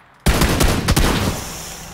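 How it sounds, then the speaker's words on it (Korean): A sudden burst of gunfire from the second floor of a building in PUBG: several sharp close shots in quick succession, then a trailing echo that fades out, with no talking. "초합집 2층에 쏘는 거 같은데"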